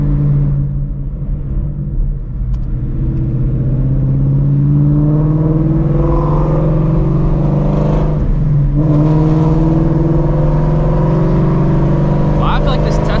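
A Shelby GT350 Mustang's exhaust drones steadily while driving at night, a loud, close, continuous rumble that swells as the engine pulls, with talk over it.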